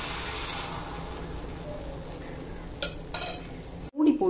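Wheat appam batter sizzles in a hot pan with a steady frying hiss, broken near the end by a few sharp metallic clinks of a ladle or lid and a brief pause.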